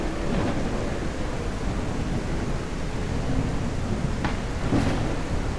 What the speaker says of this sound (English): Big storm.